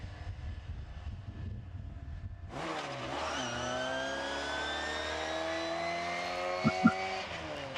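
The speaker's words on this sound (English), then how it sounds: "That's the noise of a straight cut gearbox in a Cooper S." A Cooper S race car at a classic racing meeting at Estoril accelerates past, its straight-cut gearbox letting out a steady high whine over the engine noise, heard alone after quiet crowd ambience.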